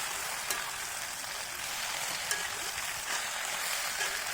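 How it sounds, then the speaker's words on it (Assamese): Local chicken pieces and potatoes fry in oil in a pan, a continuous, fairly quiet hissing sizzle with a few faint stirring knocks, heard alone. "যেতিয়ালৈকে মাংসখিনিয়ে ভালদৰে তেল নেৰে তেতিয়ালৈকে মই এইখিনি ভাজিয়ে থাকিম"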